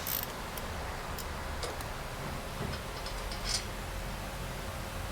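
Ratchet clicking as it loosens a stiff bolt on a wheel bearing, a faint, sparse ticking over steady garage background noise.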